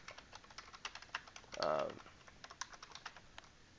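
Rapid, light clicking of keys on a computer keyboard, close and soft, tapping in uneven bursts with a brief spoken hesitation sound in the middle.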